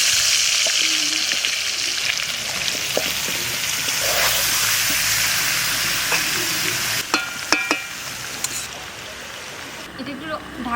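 Jackfruit and potatoes fry in oil spiced with cinnamon, cardamom, cloves, star anise and mace, a steady loud sizzle with stirring scrapes and a few sharper clinks toward the end.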